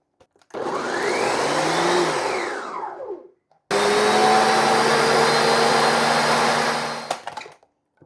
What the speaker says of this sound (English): And that's it, ready to blend.